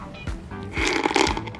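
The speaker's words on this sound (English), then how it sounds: "He's sniffing it, he smells." A dog sniffs at something close by, giving a quick run of snuffling, snorting nasal bursts.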